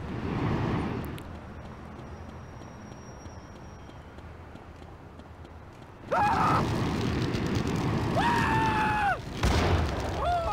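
Explosions in the GTA Chinatown Wars video game land as a heavy boom about midway and another near the end, with whooping siren-like game tones between them over a low background.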